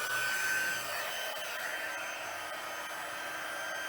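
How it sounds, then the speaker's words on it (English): A Stampin' Up! embossing heat tool runs alone as a steady, moderately quiet blower rush with a faint thin whine, warming up with no change in level. "if you preheat your heat tool. So just turn it on so that it warms up first"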